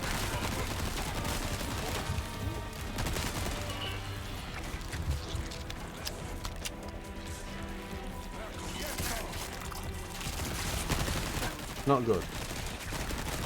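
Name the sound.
SMG gunfire in video game Resident Evil 4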